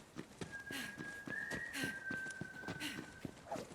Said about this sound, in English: Ain't that the damnedest thing? Someone was whistling.